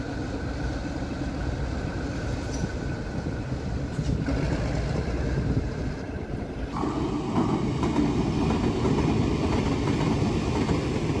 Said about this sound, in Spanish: sus 1300 caballos le sirven mejor para traccionar estos pesados trenes a velocidades moderadas